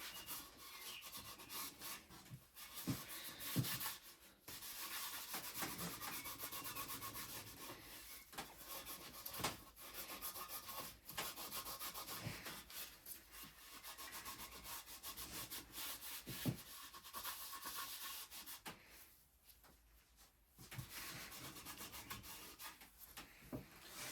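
Wax is rubbed onto a wooden foot stool by hand, giving continuous close scratchy rubbing strokes in an uneven rhythm, with brief pauses between passes and no talking.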